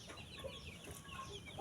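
Chickens in a coop block holding about 200 birds cluck and murmur softly at a distance, a scattered, continuous chorus of short calls over a dense background rustle, with no talk.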